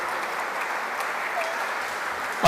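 A hall audience at a book launch applauds with dense, sustained clapping that holds steady and even for the whole stretch.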